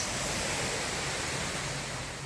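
Thusharagiri waterfalls seen from below, a steady, dense roar of falling water that fills the whole stretch evenly without pause or voices.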